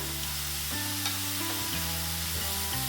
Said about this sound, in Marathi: जो खिसलेला मुळा आहे ना तो घालून घ्यायचा आहे तो दोन मिनटं आपल्याला परतून घ्यायचा आहे